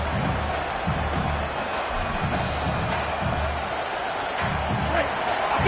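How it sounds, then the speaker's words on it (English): Stadium crowd in the College Football 27 video game during NIU at Iowa sends up a steady, dense roar that never lets up, with faint swells of cheering across the whole stretch. "This crowd bringing the energy and noise early."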